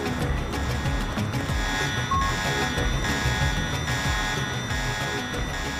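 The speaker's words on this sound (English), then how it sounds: "That body just keeps setting off the alarm." An alarm set off by a body in the Deus Ex video game drones on steadily with a repeating electronic beep pattern over a dense mechanical background hum.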